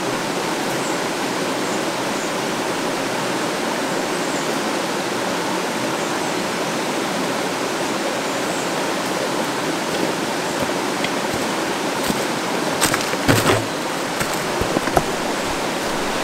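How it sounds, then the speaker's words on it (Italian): A clear woodland stream flows steadily and close by, a continuous broadband rush of running water over rocks that stays even throughout, with a few brief splashes or rustles near the end. "L'acqua di questo torrente è pulita, ma è un po' velata."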